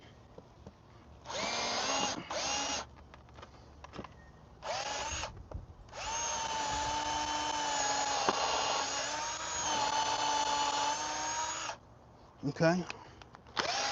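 A power drill fitted with a 9/64 drill bit bores into deck stairs in several bursts, a long sustained whine in the middle with shorter spins before and after, close and loud, with a brief spoken word.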